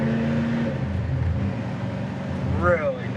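Steady low engine drone from a 1958 Chevrolet Impala pulling ahead after a kickdown, heard from inside the cabin, with a voice speaking briefly near the end.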